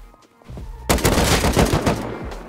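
Gunfire in the video game Rust: after a quiet start with faint low hums, a loud burst of rapid automatic shots erupts and continues densely for over a second before tapering off.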